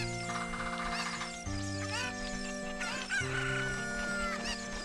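Cuckoo chickens in The Legend of Zelda: Ocarina of Time 3D cluck and crow repeatedly over looping game music, the bird calls overlapping and fairly prominent.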